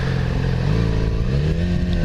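A motorcycle fitted with a slip-on exhaust revs loudly and close, a steady throaty drone with rising pitch that holds for a couple of seconds.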